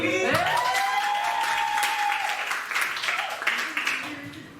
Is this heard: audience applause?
yes